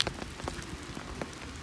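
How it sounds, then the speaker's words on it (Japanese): Rain falls outdoors on a morning walk with a husky, pattering close by as scattered drops tap sharply over a soft, steady wash of rainfall. "もう雨が強くなってきちゃったから"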